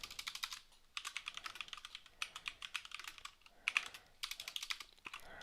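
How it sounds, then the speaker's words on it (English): Quiet, rapid typing on a computer keyboard comes in several quick bursts of clicky keystrokes with short gaps between them, and no one speaks. "why is my typing so horrible?"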